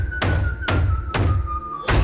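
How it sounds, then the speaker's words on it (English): A hammer drives nails into a wooden coffin lid in a dark film scene: four heavy, evenly spaced thuds, close and loud, over a thin high-pitched whistle that holds throughout. "a high-pitched whistle that blends with the harsh thumping of Bud nailing the coffin shut"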